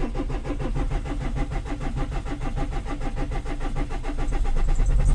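A Renault Espace 3 with twelve litres of oil in its engine cranks and churns steadily, the starter's rhythmic pulses running loud and continuous before the engine catches briefly and swells slightly toward the end.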